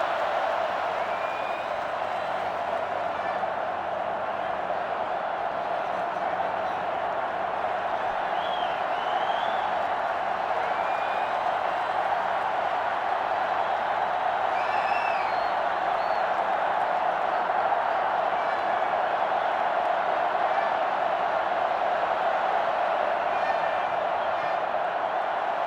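A stadium crowd in the NCAA 06 football video game roars at a steady level throughout a UCLA at Washington State match, with a play-by-play commentator talking over it.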